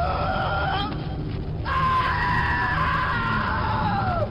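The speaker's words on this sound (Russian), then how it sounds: "Из глотки раздавались булькающие звуки, сменяющиеся оглушительным визгом." Gurgling from a monster's throat gives way after about a second and a half to a loud, sustained, piercing screech that carries on steadily to the end.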